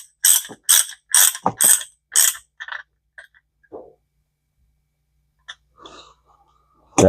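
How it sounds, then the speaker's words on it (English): An old no-name ratchet on a socket loosening a salty, sandy vintage D.A.M Quick 440 fishing reel, a quick burst of five loud close clicking ratchet strokes, then a few scattered small clicks and taps amid quiet. "This is an old ratchet my dad had on the farm."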